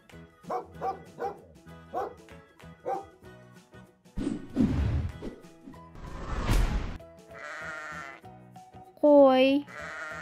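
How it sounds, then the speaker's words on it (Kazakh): A sheep bleats once, loud and wavering, near the end, after a run of close dog barks and a couple of noisy bursts. Light background music plays throughout. "қой."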